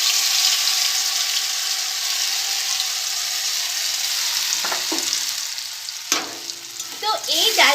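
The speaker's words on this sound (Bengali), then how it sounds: "তো এই ডালটাকে আমি এখন ভালো করে কিন্তু ভাজবো" Lentils (dal) frying and stirred in hot oil for a fenugreek greens dish, a steady close sizzle throughout with a few clinks and scrapes of stirring near the end.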